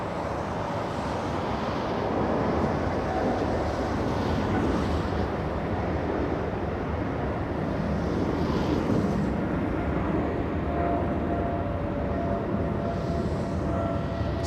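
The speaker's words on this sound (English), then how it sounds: "big 777 taking off right now." A Boeing 777 takes off at LAX, its dense, continuous jet roar filling the whole stretch at a steady level, with wind buffeting the microphone.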